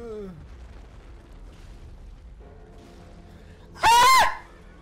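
A sudden loud scream bursts out near the end after a stretch of quiet game background, short and sharp, with a player caught off guard while playing an online shooter game.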